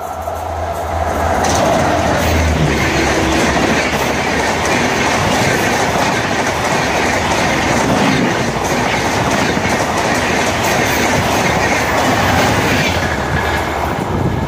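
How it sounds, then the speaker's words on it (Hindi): Tejas Express hauled by a WAP-4 electric locomotive thunders past at high speed, a loud sustained roar of wheels and railcars with clickety-clack and occasional squeal, up close and unbroken. "पहली बार वेब 4 के साथ टेरेस एक्सप्रेस गई इतनी जोरदार स्पीड में"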